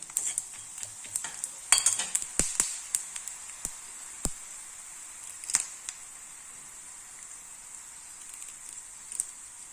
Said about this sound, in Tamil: இப்போ இந்த மல்லி விதைகளை சேர்த்துட்றேன்